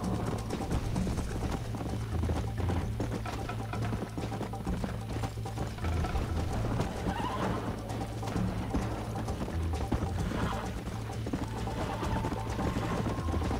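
Horse galloping in Red Dead Redemption, a steady rapid clip-clop of hooves over a continuous low rumble of game ambience, fairly quiet and without talk.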